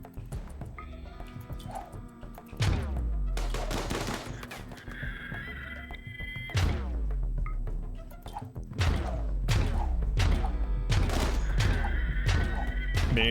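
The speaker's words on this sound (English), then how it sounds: "this shooting actually is freaking insane" Heavy gunfire in a video game: repeated loud bursts of shots and rapid volleys come in waves, some with ringing tails, forming a dense, sustained exchange of fire with no voices.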